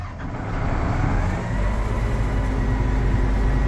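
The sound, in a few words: cold start of a vehicle engine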